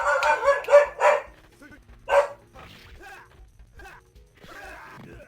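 Several dogs at home bark in loud, sharp bursts, with a cluster of barks up front and another single bark, then fainter, more distant yips and noises.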